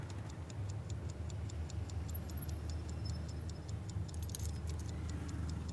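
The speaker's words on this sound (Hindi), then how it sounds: "देखो, गेट की चाबी।" Gate keys jangling faintly with light metallic clinks, set against a low steady hum and a regular ticking rhythm, with a brief busier jingle near the end.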